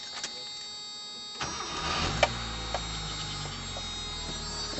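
A 1989 Ford Festiva's small engine cranks briefly and catches, settling into a steady low idle with a few clicks and clunks around it.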